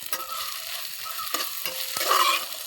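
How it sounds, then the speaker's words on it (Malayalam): Tomatoes are stirred and fried in a hot pan, giving a steady sizzle with several sharp scraping strokes of a spoon against the metal, close and continuous with no voices. "തക്കാളിയും വാടി വരുന്നവരെ നമുക്ക് നന്നായിട്ടൊന്ന് ഇളക്കി കൊടുക്കണം"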